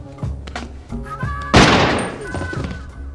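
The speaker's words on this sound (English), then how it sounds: "and you finally hear the thump." In a scene from the film Snatch, a sharp, heavy thump bursts out midway and fades slowly. Voices are heard talking before and after it.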